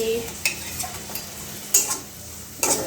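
Paneer cubes are stirred and fried in a spiced masala in a pan. A few sparse metal scrapes and taps stand over a faint background hiss, close by but fairly quiet, with no speech.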